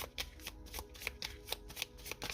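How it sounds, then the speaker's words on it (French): Seven tarot cards are laid out on a table, quick papery flicks and slaps of cards in an irregular close patter, with no talk. "Je pose les 7 cartes."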